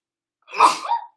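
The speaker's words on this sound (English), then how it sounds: "Hold on, I'm gonna have to sneeze." A single sneeze bursts out close by, a sharp intake followed by a loud explosive release that tails off in about half a second, with no talk around it.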